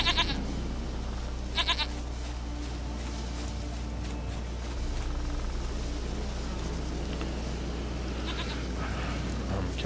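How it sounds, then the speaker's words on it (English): A goat bleats in a video game, a few short wavering calls near the start and around two seconds, over a steady low ambient hum. "Goat of mine, dearest, sweetest goat."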